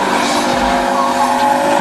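A VR6 turbo Audi A4 Quattro race car lapping a track during a time attack event, its engine a loud, steady sustained roar with a faint tire squeal, heard close and alone throughout.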